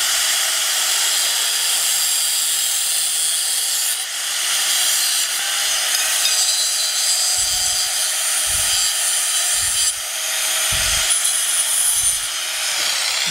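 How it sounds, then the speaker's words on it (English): An angle grinder cuts metal with a loud, sustained high-pitched whine and steady grinding hiss that dips briefly a couple of times, with low thumps underneath, with no speech. "safety first, especially with these angle grinders. They are nothing to mess around with."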